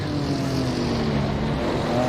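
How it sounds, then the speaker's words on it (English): A continuous engine drone with a rising pitch, loud and steady, like a racing car running hard close behind: a 1958 Lancia Formula 1 car in the Automobilista sim game, on lap 1 at Rouen. "Boy, I can hear the Lancia behind me."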